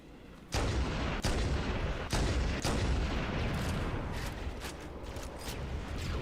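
Rocket launcher blasts in Halo CE Anniversary come as a sudden heavy boom, followed by several more loud explosive thuds and a sustained rumbling roar of gunfire and explosions, dense and close.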